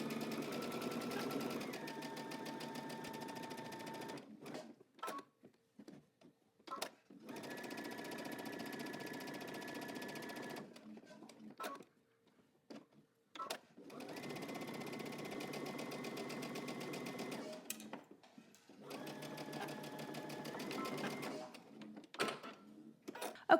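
Sewing machine stitching a pocket seam on a pattern garment, several steady whirring bursts of motor and needle separated by short pauses, close and alone.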